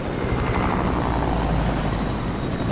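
A helicopter flies in the video game Fortnite, its steady rotor thrum and engine roar filling the scene loud and close, a constant broadband drone with a strong low pulse and no breaks.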